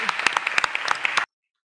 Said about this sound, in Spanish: Así que un aplauso para Nelly.